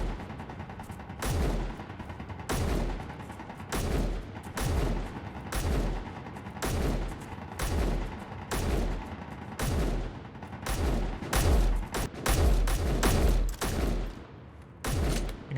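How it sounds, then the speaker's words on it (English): Heavy turret gunfire in the space survival game Space Engineers, a long run of loud booming shots, some evenly spaced and others bunched into rapid volleys, with no talking. "I think I'm shooting the same big turret you are."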